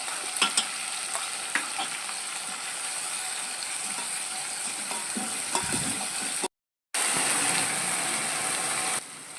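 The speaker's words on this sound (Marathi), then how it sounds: "कांदा चांगला परतून झालेला आहे." Onion paste sizzles in a hot pan while being stirred for a Maharashtrian mutton rassa, with a steady frying hiss under repeated scraping clicks of a spoon, close up, and a short silent gap near the end.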